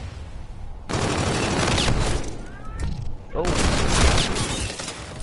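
Rapid gunfire bursts from a first-person shooter video game, loud and sustained with short breaks, dense volleys and crackling impacts, while a voice briefly exclaims.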